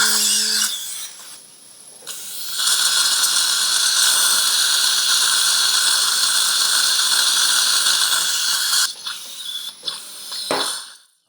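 Taper drill, 5.0 by 8.5 mm, boring full length into hard jawbone at a dental implant site: a loud, steady high-pitched whine lasting several seconds, with short quieter drill bursts before and after.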